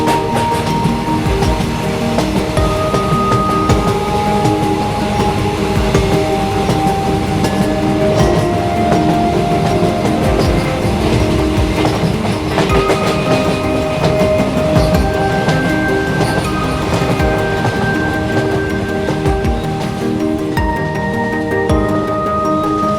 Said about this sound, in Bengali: এই 2 নম্বর প্ল্যাটফর্মে কিন্তু ট্রেন প্রবেশ করলো সাহেবগঞ্জ টু হাওড়া ডাউন হাওড়া